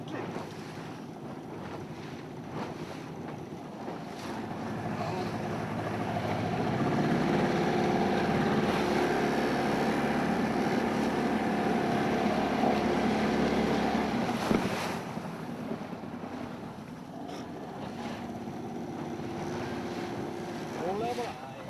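A small boat rolls through rough, choppy waves at the Hornafjörður estuary near Höfn. Wind buffets the microphone, and water slaps and rushes against the hull, swelling louder midway. Voices talk at times.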